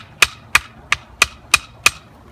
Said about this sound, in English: I take my hammer here and give it a few taps.